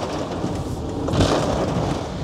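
Heavy rain falls on a city street during roadside clearing operations along an avenue, a loud, dense hissing wash with a brief heavier surge midway, close and continuous.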